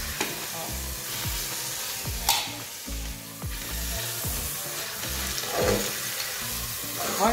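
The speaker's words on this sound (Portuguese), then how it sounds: "vamos deixar esse alho aqui agora dourar também" Garlic sizzling in a hot pan alongside pork loin, with a steady frying hiss broken by repeated utensil stirs and scrapes; low tonal hum underneath, no voices.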